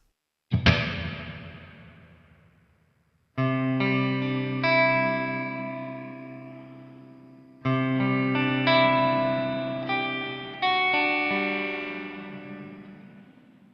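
Guitar chords ring out through a Line 6 Helix/HX One double tank reverb with modulation, lush and shimmering with wavering modulation, each strum swelling and decaying in a wide wash; three or four strums, no talking.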